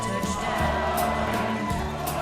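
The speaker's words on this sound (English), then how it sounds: "Crowd letting Hobo Hank know how much they love him." A wrestling crowd at a Duke City Championship Wrestling show cheers for Hobo Hank, a loud, steady roar of voices with a few whoops rising out of it.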